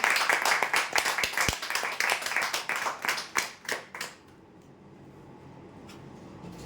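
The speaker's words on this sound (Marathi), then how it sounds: "जोरदार टाळ्या" A crowd at a weekly lucky draw prize event gives loud, dense clapping for the winners that lasts about four seconds, then drops away to a quiet room hum with a couple of stray claps.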